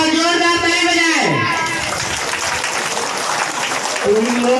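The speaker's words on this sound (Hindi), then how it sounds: "और जो बोल रहे हैं बहुत जोरदार ताली बजाए।" Church congregation clapping loudly together, a dense burst of applause heard under and between a man's sustained, sung voice.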